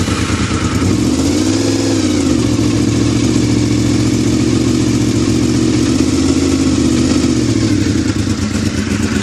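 A 1988 Honda VFR750FJ Rothmans motorcycle idles after a cold start, its engine holding a loud, steady rumble with light mechanical clatter and a slight rise and dip in revs, close up.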